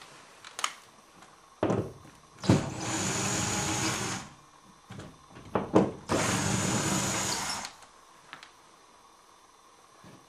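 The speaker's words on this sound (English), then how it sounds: "Now that that's in there, you're going to remove your screws." A power drill backing screws out of anchor marks while hanging a guitar hanger, two sustained whirring runs with clicks and handling knocks between them, close and loud with no talking.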